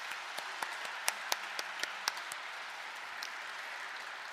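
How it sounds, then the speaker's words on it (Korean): An audience applauds at a Lenten lecture in a cathedral, with a steady wash of clapping heard from some distance and a few sharper individual claps standing out near the start. "다시 한번 뜨거운 박수 부탁드립니다."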